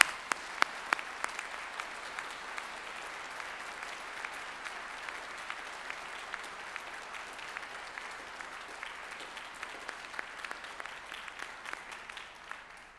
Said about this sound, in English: I now ask the members of the audience behind you to applaud your accomplishments